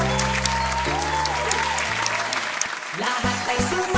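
A crowd applauds at a public speaking summer class recital, steady clapping throughout while music with sustained tones plays alongside and shifts toward the end.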